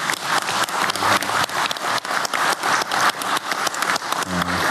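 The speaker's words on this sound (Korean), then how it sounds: "우리 대통령님과 국민을 위해 박수 한번 크게 보내주시기 바랍니다." Dense, sustained applause fills a room at a Korean government gathering honoring President Lee Jae-myung, many hands clapping loudly and steadily without a break.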